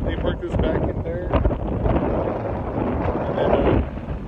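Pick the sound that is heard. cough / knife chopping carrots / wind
wind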